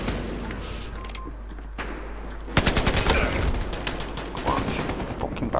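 A video game gun opens fire: after a quieter stretch of low rumbling ambience, a loud rapid burst of automatic shots breaks out and continues in uneven clattering volleys to the end.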